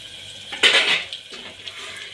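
Sliced green chillies for a potato and giloda vegetable dish drop into a metal cooking pan with a short clatter and a quick sizzle, followed by a few faint clinks.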